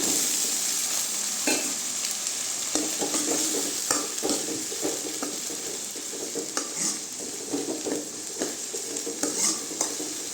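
Brinjal sautéing in a pan with softened tomatoes for a drumstick and brinjal kara kuzhambu, giving a steady close sizzle with irregular scraping stirs across the whole stretch, no voices.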